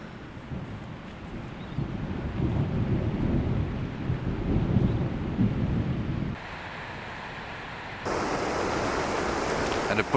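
Low thunder rolls up a river valley beneath grey storm clouds, a broad continuous rumble that swells and lingers over the full stretch, with steady wind or water hiss behind it and no voices.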